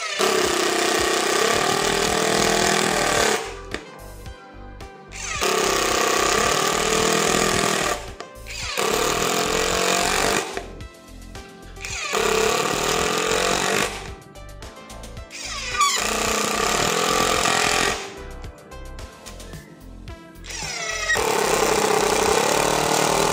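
A Nagawa 21V cordless impact driver drives a screw into soft Dutch teak in five loud bursts of rapid hammering clatter, each a few seconds long, separated by short pauses.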